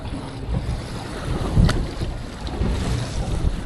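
Wind gusts over a small boat at sea, a steady rushing roar with microphone buffeting and a louder gust near the middle, water sloshing faintly beneath.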